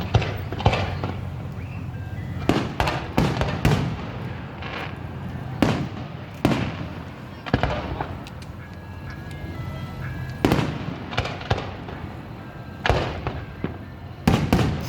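A 2021 fireworks show in Exeter, California, with large aerial shells bursting: a steady run of loud, sharp booms and cracks at irregular intervals, some in quick pairs, over a low crowd rumble.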